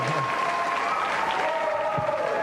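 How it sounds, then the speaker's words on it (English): Studio audience applause for game show winners on a video game show, a soft continuous wash of clapping with some background tones running underneath. "Please give another round of applause to Jason and Lisa Porzol."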